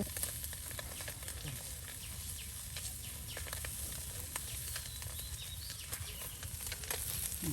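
Finely chopped onions frying in oil in a pan, a faint, steady sizzle with small crackles throughout, heard alone without talk.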